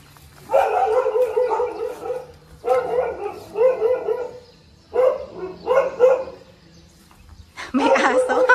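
A dog barks in several loud bursts of repeated barks, with short pauses between them, near a house lot in the Suntrust Verona subdivision.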